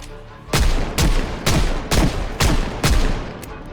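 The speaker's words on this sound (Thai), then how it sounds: "ผมว่าใช้ปืนดีกว่า" Gunfire in the zombie survival video game Project Zomboid: seven sharp, loud shots spaced roughly half a second apart, each with a short decaying tail, and no talk over them.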